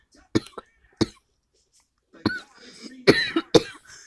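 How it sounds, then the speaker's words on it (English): A child coughs in several sharp, separate bursts, close by, with a brief throat-clearing rasp between them. "why you are coughing?"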